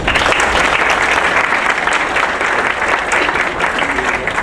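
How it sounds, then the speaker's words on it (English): Loud, sustained clapping from a seated audience at a United Way recognition event, with a crowd applauding together continuously for several seconds. "Let's give them a round of applause."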